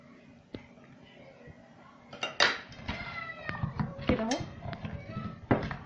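A knife slices garlic cloves on a board for an oven potato tray, giving a handful of sharp, irregular clicks and taps close by, with a voice talking softly in between.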